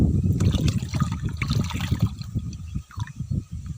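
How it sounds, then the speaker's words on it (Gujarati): Water pours from a container into a bird water trough outdoors, a close, splashing trickle with uneven bursts that eases off toward the end. "નાખી દઈએ પાણી નાખો કુંડિયું ભરાઈ જાય આ એક કે બે ડબલા નાખી"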